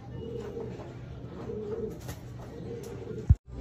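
Soft, low racing pigeon cooing repeats steadily at close range, ending in a brief loud bump and a moment of near silence.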